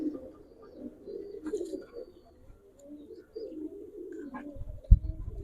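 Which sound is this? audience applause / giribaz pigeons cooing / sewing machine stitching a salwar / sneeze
giribaz pigeons cooing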